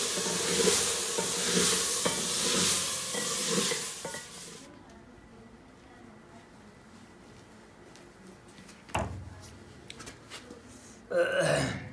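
Loud sizzling of potatoes dropped into hot tempering oil for a potato curry fades to a quieter simmer, followed by a few clatters of utensils.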